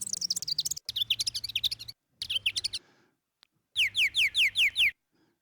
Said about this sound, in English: we can play birds.